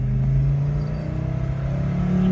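Audi 4000 Quattro engine revving hard through a second gear pull, a loud steady drone that rises in pitch with a whining tone above it, close and continuous.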